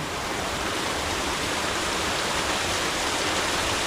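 Waterfall cascading into a pool with mist, a dense continuous roar of falling water, loud and steady with no voices.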